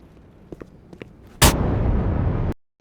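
In the video game Half-Life: Black Mesa, a few small taps give way to one loud, sudden blast that roars for about a second and then cuts off abruptly.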